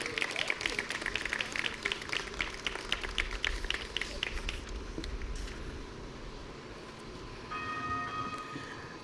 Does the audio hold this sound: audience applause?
yes